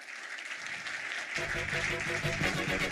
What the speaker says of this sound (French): Laurent, alors, on va l'applaudir vraiment très très fort.